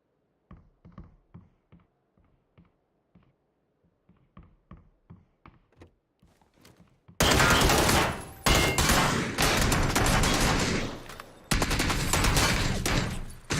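Video game gunfire: a run of light evenly spaced taps and shots, then a loud sustained burst of rapid automatic fire with a short break partway through.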